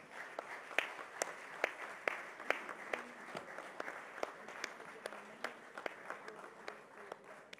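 Audience applause at the India Today Conclave 2013 conference, given for Malcolm Gladwell: scattered, fairly faint hand claps that patter unevenly throughout without ever building into a dense roar.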